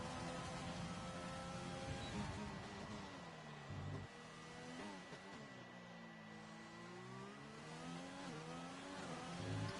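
A race car in a sim racing game screams through its final lap of a round in Canada, its engine revving high, dropping briefly under braking and climbing again through the gears, steady and close throughout.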